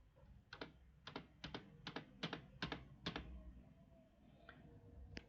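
A command being typed on a computer keyboard while a Cisco switch is configured, a quiet close run of about a dozen separate key clicks in small uneven bursts, with no talk.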